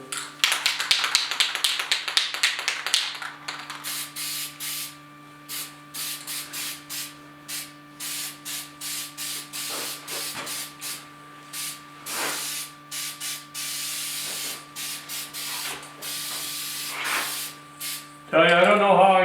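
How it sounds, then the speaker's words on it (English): An aerosol can sprays guide coat over the cab bodywork of a 1972 Ford F100 4x4 pickup during sanding and primer work, in a rapid burst of hisses early on followed by many short, evenly spaced spray bursts, close and fairly loud. "Let's give her another guide coat."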